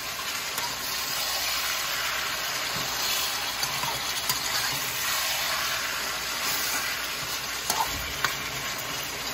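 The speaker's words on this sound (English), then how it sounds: "So let me go ahead and start to stir it" A spoon stirs Jamaican beef stew in a pot, giving a steady close sizzle and bubbling hiss with occasional scraping clinks against the pot, continuous throughout.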